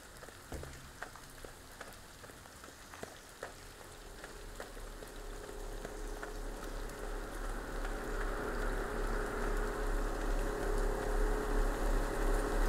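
Rain falls in the trucking game Alaskan Road Truckers, a steady hiss that thickens and grows louder over the stretch, with no voices and a low engine rumble underneath.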